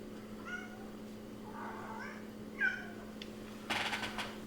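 A cat meows several times, rising and falling calls spread across a few seconds, fairly faint against a steady background hum, ending with a brief rustling burst.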